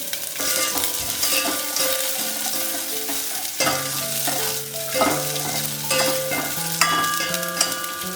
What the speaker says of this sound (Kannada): ಸ್ವಲ್ಪ ಎಣ್ಣೆ ಬಿಸಿ ಆದಮೇಲೆ ಇಟ್ಕೊಂಡಿರೋ ಬೆಳ್ಳುಳ್ಳಿ ಹಾಕ್ಕೊಂಡಿದ್ದೀನಿ.